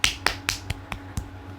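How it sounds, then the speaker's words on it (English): Six sharp hand claps in a loose rhythm, close and dry, each a crisp isolated snap with short gaps between. "Why did I clap for the Undead?"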